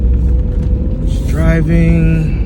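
A broken-down van's engine rumbles low and loud from inside the cab while driving slowly, with a rising whine and tonal hum over the drone before the motor cuts out.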